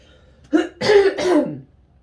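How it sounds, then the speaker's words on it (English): A person clears their throat up close: a short rasp followed by two longer, gravelly pushes, then quiet. "I want to clear my throat again."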